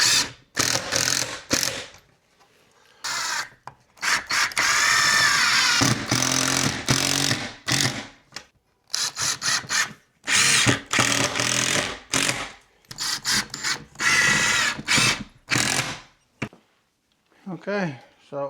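Power drill driving screws through a picture ledge shelf into wall studs, short bursts of whirring and ratcheting with gaps between, close and loud.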